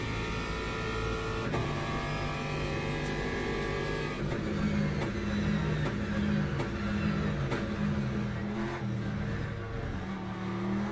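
An Aston Martin race car in the Le Mans Ultimate racing game drones and revs continuously, its engine note climbing and shifting through gears, loud and steady without talk.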